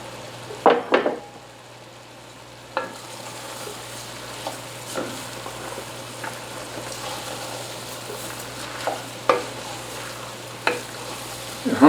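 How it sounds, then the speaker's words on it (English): Parboiled rice being stirred into a pot of Cajun jambalaya, with scraping spoon strokes and metallic pot knocks over a low sizzle, a few louder clanks near the start. "Put all of that in there and then stir it."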